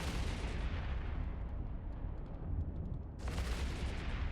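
Spaceship missiles and guns fire in Eve Online as a dense, continuous wall of rumbling, crackling booms that stays loud throughout, with a brief dip in the upper hiss before the barrage swells again.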